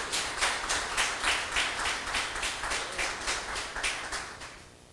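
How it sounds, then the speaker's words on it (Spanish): A church congregation claps together during a morning worship service, a steady run of sharp, fairly even hand claps that continue for several seconds before tapering off, with no talking over them. "Denle un aplauso en esta mañana"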